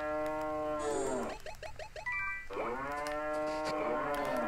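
A cow in the farming game Story of Seasons: Trio of Towns on 3DS gives a long, loud, close moo, a short stretch of lighter chirpy game tones, then a second drawn-out moo.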